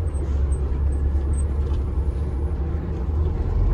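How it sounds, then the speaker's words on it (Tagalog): A heavy loaded truck engine strains as the clutch is released, with a loud, steady low roar that holds throughout without letting up. "pag binitawan yung clutch, talagang nanggagaliiti pa yung makina"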